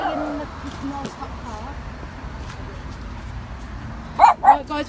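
A dog gives two quick barks near the end, fairly close outdoors, after quiet background talk and street ambience.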